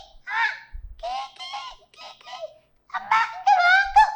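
A person imitates a parrot's call with a series of short, nasal, honking vocal squawks in irregular bursts, close and clear.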